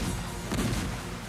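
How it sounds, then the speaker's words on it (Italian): Port-side ship cannons fire in a pirate adventure cartoon, a broad low boom swelling midway through a steady, dense rumble of battle noise. "Cannoni di babordo, fuoco!"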